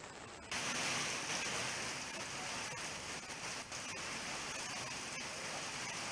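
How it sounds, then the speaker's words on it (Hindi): Steady rain falling in Dehradun, a loud continuous hiss of drops on surfaces that starts abruptly and holds for several seconds, with no voices. "तो कुछ अंतराल के बाद बरसात हो रही है"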